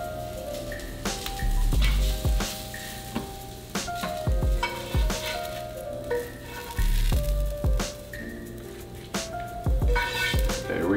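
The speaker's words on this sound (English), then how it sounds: "Super simple recipe for pan seared hogfish." A hogfish fillet sears in a hot pan, giving a steady loud sizzle with scraping and stirring clatters of a utensil against the pan repeating throughout, close up.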